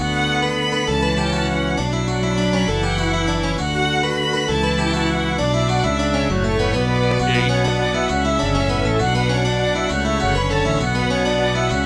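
Strings play a flowing melody over warm sustained harmonies and a steady low bass line, loud and continuous throughout.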